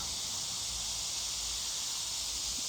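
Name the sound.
cicadas buzzing outdoors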